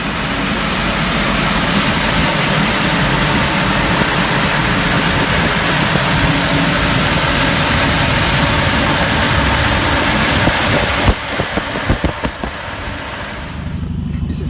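Renault Megane RS engine idling steadily on a dyno while a loud cooling blower roars over it, a continuous dense rumble that cuts off near the end, leaving a few uneven engine pulses.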